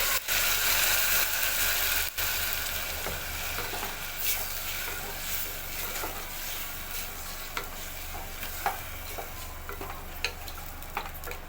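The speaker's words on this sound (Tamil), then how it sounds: "இஞ்சி பச்சை மிளகாவுடைய அந்த பச்சை ஸ்மெல்லாம் போகிறதுக்கு கொஞ்சம் நல்லா வதக்கிக்கலாம்." Ginger and green chillies sautéing in a pan for a Tirunelveli-style sothi kuzhambu, a steady close sizzle with scattered sharp scrapes and clicks of a spoon stirring throughout.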